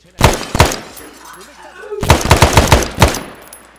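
Video-game gunfire in a village, heard as two quick shots, a pause, then a rapid burst of several loud reports with low booming tails.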